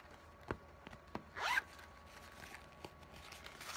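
A zipper on a small vinyl pencil bag is pulled in one quick, close rasp, surrounded by a few soft handling clicks and taps in a quiet room.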